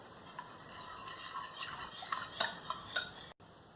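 A whisk beats eggless chocolate coffee cake batter in a bowl, giving soft, irregular clicks and taps against the bowl side. The sound is faint and close, with no talking.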